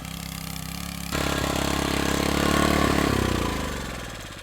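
A diesel inter-cultivator weeding machine engine runs close by with a steady chugging drone that jumps louder and rises in revs before settling back, with no voices.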